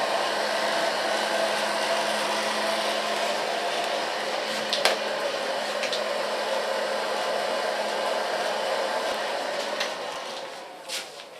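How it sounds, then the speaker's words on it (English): A handheld hair dryer blows steadily while short hair is styled, a close, continuous whooshing drone holding level for about ten seconds before easing off near the end. "So far blow drying."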